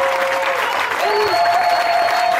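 A church congregation at a Sunday service claps and cheers together in a loud, steady burst of applause, close and full, with voices rising over the clapping.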